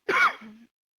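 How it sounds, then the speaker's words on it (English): A single loud, harsh cough right up against a microphone during a live talk show, brief and close with a short raspy tail. "Oh, megaphone cough"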